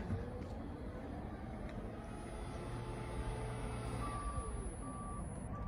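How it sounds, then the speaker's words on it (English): A Honda's power tailgate operates with a faint, steady motor hum and intermittent warning beeps. The sound is quiet and heard from nearby. "It's got a power tailgate."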